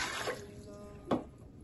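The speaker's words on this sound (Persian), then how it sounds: "9 لیوان آب داخل از این قابلمه من میریزم." Water runs faintly into a large cooking pot, nine glasses in total, as a soft, brief trickle with a small splash near the end.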